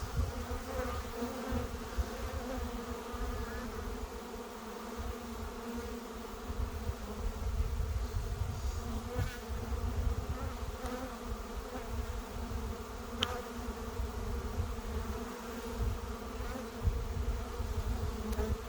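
A steady, dense buzzing of many honey bees, close and continuous, with a low hum and occasional sharper wing sounds passing nearby.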